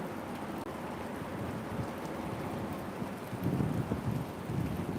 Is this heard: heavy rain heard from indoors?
yes